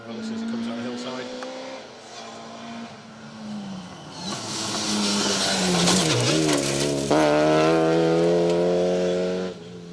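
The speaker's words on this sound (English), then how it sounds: "Sweet sounding engine in this car." A 1600 Vauxhall Corsa rally car on a Welsh forest stage engine note climbing and shifting through gears as it comes down a hillside, growing louder and rasping hard near the end, with a commentator talking over it.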